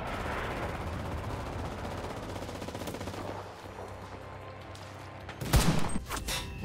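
Gunfire and an anti-tank gun in a video game battle, with a steady rumble of distant shooting followed by a sudden loud, close blast and a few trailing cracks.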